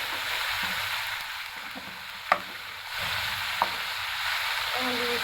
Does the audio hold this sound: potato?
yes